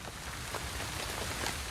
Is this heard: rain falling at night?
yes